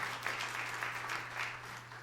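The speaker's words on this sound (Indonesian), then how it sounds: "Yang sujud tepuk tangan yang meriah untuk kemuliaan nama Tuhan" A church congregation applauds during a sermon, a soft, continuous patter of many hands that sounds distant and fairly quiet against a low steady hum.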